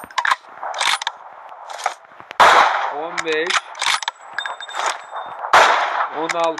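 Loud, sharp gunshots from an AMR anti-materiel rifle in a video game, fired repeatedly at uneven intervals with metallic clanks and ringing reload or mechanism sounds between shots.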